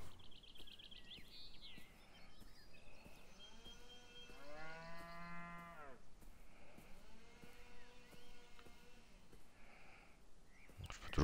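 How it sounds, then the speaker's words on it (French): A cow moos twice in the video game Beyond Eyes, two long, drawn-out, moderately distant lows over a quiet outdoor ambience with faint bird chirps. "Là, c'est la vache de tout à l'heure."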